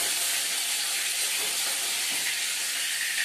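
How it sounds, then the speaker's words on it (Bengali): Fish and potatoes frying in oil, a dense, even hiss of sizzling that stays loud and unbroken throughout, with no voices. "আলু দিয়ে মাছ ভাজা হয়ে গেছে"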